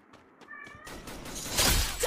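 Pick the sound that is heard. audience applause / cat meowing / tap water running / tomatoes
cat meowing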